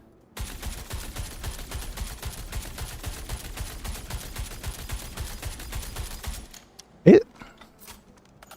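Sustained rapid automatic gunfire from a weapon in the Star Citizen video game, a dense loud burst lasting several seconds, then a brief mechanical clack and a short vocal sound once the firing stops.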